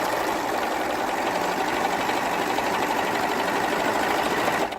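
An overlock sewing machine with a trimming blade sews a long skirt seam, running in a fast, even, continuous whir close by before stopping abruptly at the end.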